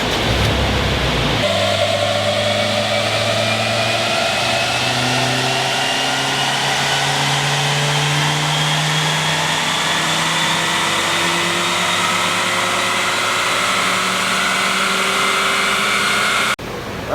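A Nissan Juke with its stock airbox does a full-throttle dyno pull. The engine drones loud and steady while its pitch climbs slowly through the revs, then cuts off abruptly at the end.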